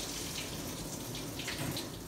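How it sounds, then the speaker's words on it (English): Running water pours steadily over a full-coated Havanese dog's coat during a bath, a continuous close hiss of rinsing spray with no talk. "And then we can rinse it out."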